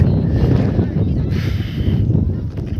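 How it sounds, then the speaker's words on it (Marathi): Wind on high ground at Harihar fort near Nashik buffets the microphone with a heavy, continuous low roar and gusty rumble throughout. "वरती वार पण भारी सुटली"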